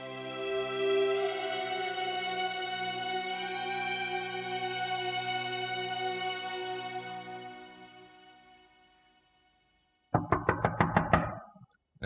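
Someone raps hard on a door in a series of quick, loud knocks, a sharp burst that comes right after a long sustained musical tone fades into silence.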